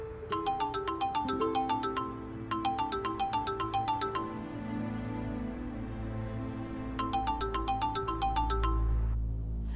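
Mobile phone ringtone playing a bright electronic chiming melody in repeated bursts with pauses between them, loud and close, alone with no voices.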